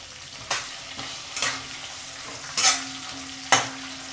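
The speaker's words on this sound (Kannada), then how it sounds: "ಚೆನ್ನಾಗಿ ಎಣ್ಣೆಯಲ್ಲಿ ಹಸಿಮೆಣಸಿನ್ಕಾಯಿ ಮಾಗಬೇಕು" Green chillies frying in oil in a pan for fenugreek leaf chutney, a steady soft sizzle broken by four scraping stirs of a spatula at regular intervals, close and alone without talk.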